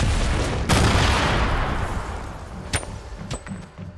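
Grenade blasts and gunfire in a Fortnite match: a heavy boom opens a rumbling barrage that decays over several seconds, then a few sharp nearby shots crack out toward the end.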